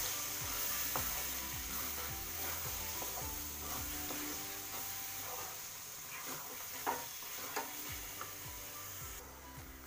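Paneer masala being stirred into matar paneer in a hot pan, a steady oily sizzle throughout with soft spoon scrapes and a few faint ticks from the utensil against the pan.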